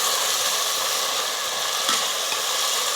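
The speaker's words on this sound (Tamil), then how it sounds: "வெங்காயம் நல்லா கலர் மாறுற அளவுக்கு நல்லா வதங்கணும்." Onions frying and being stirred in a pan for a Donne basmati biryani, a steady dense sizzle with faint scraping of a spoon, close and even, no speech.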